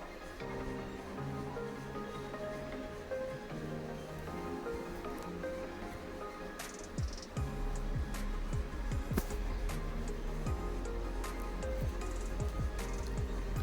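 Ridge gourd and fenugreek leaf curry with chili powder is stirred in a pan, giving soft, wet squishing with scattered sharp scrapes and clicks of the spoon, fairly quiet and steady throughout.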